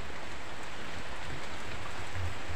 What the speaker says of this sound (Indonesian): Tapi sekalinya hujannya tidak reda-reda dan ini malah agak lumayan deras